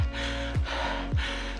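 An endurance cyclist breathes heavily after climbing Terrace Hill, three deep rhythmic gasps about half a second apart, close and loud over a low steady background rumble.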